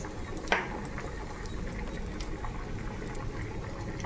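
Tamarind pulp simmering in a pot for a lentil and greens dish, a close, steady bubbling and gurgling of liquid with one brief clink near the start, no talking over it.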